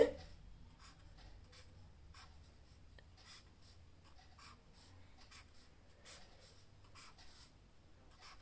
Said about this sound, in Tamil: நீங்கள் புரிஞ்சுக்கிறதுக்காக இந்த ஐசோமர்ஸை நான் ட்ரா பண்ணி காட்டுறேன் பாருங்கள்